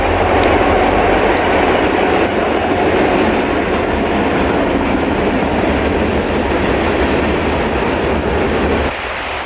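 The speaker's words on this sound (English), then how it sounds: "I'm gonna go up before this train comes." A short train passes close by a wooded hiking trail in the Ouachita Mountains, with loud continuous rumble and clattering wheels that ease slightly at the end.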